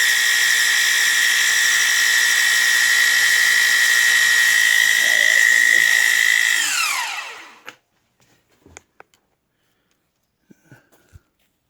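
Grizzly G0704 mill shaving down a high-speed steel lathe tool holder: a steady, loud high-pitched whine of cutting that holds for several seconds, then spins down and fades, followed by a few faint clicks and knocks.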